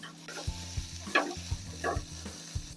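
Ginger garlic paste and chopped green chili sizzle in hot oil in a pan. The frying is steady and close, with several light stirring scrapes and clinks and no voices.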